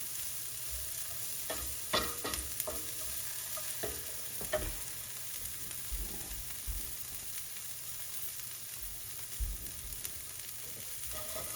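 Beef stroganoff with onion cooking in a pan, a soft steady sizzle with scattered stirring scrapes and light clinks, fairly quiet and close, no talking.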